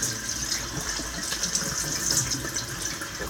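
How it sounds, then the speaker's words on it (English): Water runs and splashes steadily while a container is rinsed out after being cleaned with Purple Power degreaser, a continuous close gushing wash with no voices. "So right now I'm just rinsing around."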